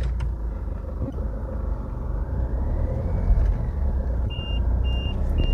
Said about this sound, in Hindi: पहले बीप का साउंड सुन पा रहे हो, इसका मतलब है बेल्ट नहीं लगाई आपने।